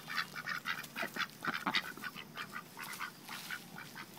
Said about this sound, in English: Oh, here's our ducks. Here they come.